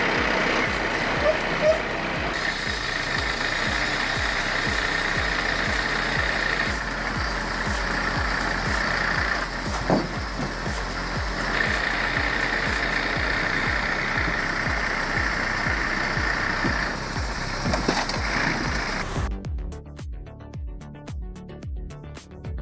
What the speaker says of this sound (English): A 480 series engine delivers steady torque, hauling massive logs out of the forest without breaking a sweat.